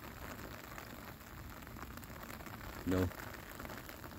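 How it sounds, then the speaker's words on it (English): Rain falls steadily as a constant hiss, with someone talking over it and a short louder thump near the end. "like the rain right now"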